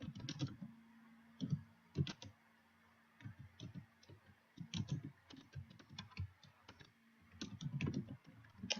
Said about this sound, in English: My fingers are not cooperating with my typing today.